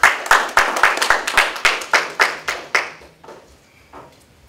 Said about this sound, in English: Can I see y'all give all of them a round of applause?